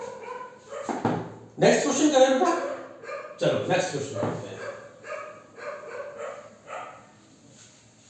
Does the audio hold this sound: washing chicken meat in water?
no